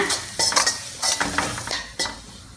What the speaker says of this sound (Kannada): ಈಗ ಈರುಳ್ಳಿ ಚೆನ್ನಾಗಿ ಇದನ್ನು ಒಂದು ಎರಡು ನಿಮಿಷ ಹುರಿಯೋಣ